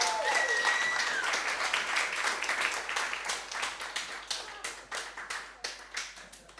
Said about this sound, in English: a big cheer then for Beth for her second set